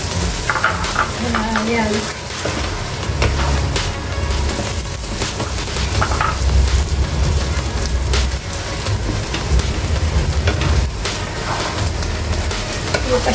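Biko rice cake with coconut milk stirred in a pan, a continuous thick bubbling sizzle with repeated scraping strokes of a spoon against the pan, a brief spoken word near the start.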